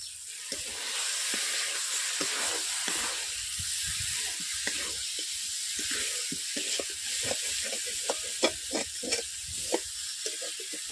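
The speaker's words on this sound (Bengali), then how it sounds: "মশলার গা থেকে তেল ফুটাচ্ছে, তেল বেরাচ্ছে। এতে আমি কাঁকড়াগুলো এক করে দিয়ে দিচ্ছি।" Crab pieces frying in spiced oil, a loud continuous hissing sizzle close up, punctuated by scattered pops and spatters that grow sharper toward the end, without speech.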